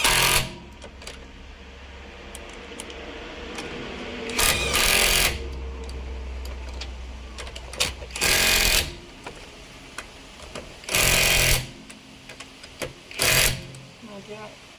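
Impact wrench loosening car wheel nuts during a tyre change, several loud short whirring bursts separated by pauses, with someone talking and clanking handling noise between bursts.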